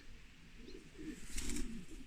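Soft cooing of young homing pigeons nearby, low and murmuring, with a faint rustle of wings over a quiet background.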